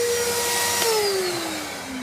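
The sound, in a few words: large vacuum cleaner running off a narrowboat inverter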